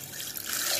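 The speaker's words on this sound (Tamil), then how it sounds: "அடுத்தது ஐஸ் க்யூப்ஸுங்க, வேணுங்கிற அளவுக்கு தண்ணி." Water is added to mint juice made with ice cubes and a pinch of salt, giving a soft, steady pour and trickle that swells slightly toward the end of a short stretch, with no voices.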